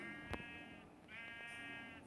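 A sheep bleats twice in a survival video game, each a quiet, wavering nasal cry, with a brief thump between them over low background noise.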